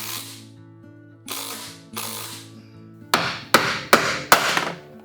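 A power driver sets screws into laminated synthetic building material, whirring in a few bursts before a rapid series of sharp clutch-ratchet clicks, loud and close.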